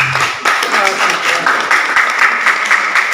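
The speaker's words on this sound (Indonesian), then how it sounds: "Tepuk tangan untuk beliau dulu ini." Audience applause at a village official candidate exam event in Rawajaya, a steady dense clapping that fills the room for a few seconds, with some voices mixed in underneath.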